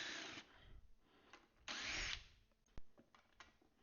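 A screwdriver works screws loose with short bursts of whirring and ratcheting clicks, close and fairly quiet, and no speech.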